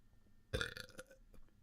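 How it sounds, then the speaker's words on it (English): A single loud, wet burp erupts abruptly and fades with a gurgling tail, close to the listener. "wait, I have to burp"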